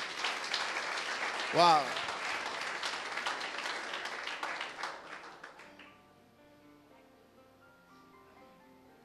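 A church congregation applauds during a sermon, moderate clapping that tapers off after about five seconds into near quiet with a faint musical tone, and a voice calls out briefly near the start.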